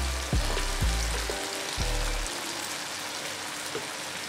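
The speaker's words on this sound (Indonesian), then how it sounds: "Kita tumis-tumis dulu." Eggplant soaked in salt water sizzles as it is stir-fried in a pan for sambal terong tempe, a steady near frying hiss with a few sharp clacks of a spatula against the pan early on, no talk.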